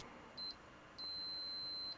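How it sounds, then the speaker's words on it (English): A multimeter in continuity beep mode sounds off during a Power Macintosh 8500 power supply check: a short high beep, then a longer steady beep about a second long, clean and close with no talking. "first I'm going to do this with beep mode, and there's a good chance it'll beep anyway"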